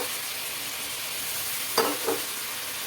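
Chicken pieces for a spicy gongura chicken fry sizzle in a hot pan: a steady, even hiss with two brief stirring clatters near the end, and no talking.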